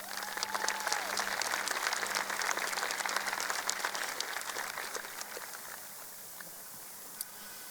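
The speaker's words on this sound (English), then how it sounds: "Let's give them a round of applause." Graduation audience applauding at a 2024 high school commencement ceremony, steady clapping from a large crowd that thins out toward the end with a few scattered claps.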